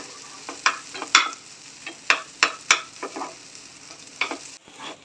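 Pigeon pea seed chutney fries in a pan with a low steady sizzle, broken by a series of sharp clacks and scrapes from stirring, irregularly spaced and close up, with no voices.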